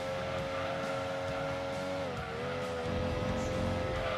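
Tires of a Mazda MX-5 squeal in a long, loud, steady drift in the racing video game Gran Turismo 2, the pitch dipping briefly midway over a constant engine drone.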